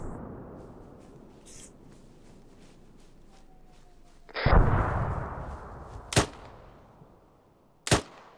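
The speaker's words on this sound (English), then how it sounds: "It's an artillery." Artillery fire in the military sim game Arma 3: a heavy, booming impact around midway that rumbles on for a while, followed by two sharper distant blasts, over a quiet low background.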